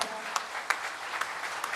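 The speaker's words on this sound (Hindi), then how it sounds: "सभी लोग एक बार तालियां बजाएं।" Audience applause at the Kshamavani Mahaparv gathering in Gwalior, a steady faint wash of clapping with a few sharper individual claps standing out, heard from a distance.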